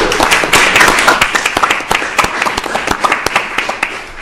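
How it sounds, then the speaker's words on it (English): Applause at a Bank of England press conference, a burst of scattered hand claps, fairly close and loud, thinning into uneven individual claps. "the first person ever to get applause in this press conference"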